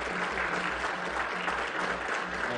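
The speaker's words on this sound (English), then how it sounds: "can we give them a great, great big round of applause?" Dense, steady audience applause in an auditorium after a panel discussion about building a spaceship, continuous throughout at moderate loudness.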